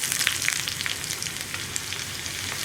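Sliced onion rings sizzling in hot coconut oil for carrot pulissery, a steady bright frying hiss with small crackling pops, close and even for the whole stretch.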